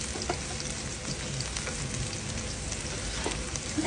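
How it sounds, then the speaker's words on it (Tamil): Thinly sliced garlic fries in a small amount of oil, giving a steady close sizzle with faint crackles and no voices. "வெட்டிட்டு நல்லா எண்ணெயில் வதக்குங்க."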